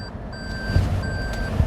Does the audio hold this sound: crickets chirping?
no